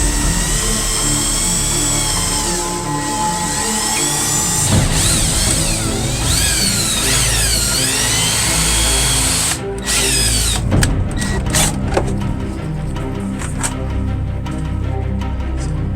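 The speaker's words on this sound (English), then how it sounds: "I'm going to drill in order to drill a hole through here to make it non-visible as much as possible." A power drill bores a hole for LED light wiring inside an RV, its motor whining steadily with rising and falling pitch, then stuttering into short bursts near the end.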